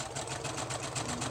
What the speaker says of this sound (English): I'm going to sew along this edge